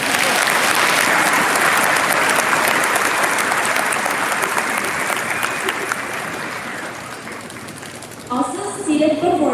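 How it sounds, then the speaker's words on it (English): A large high school graduation audience claps loudly and continuously, the applause slowly thinning until a voice comes in near the end. "You may now clap."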